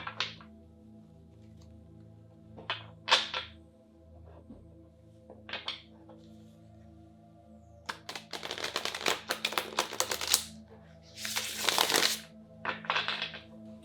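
Tarot cards being shuffled up close: scattered soft taps and flicks, then longer bursts of riffling and sliding cards toward the end.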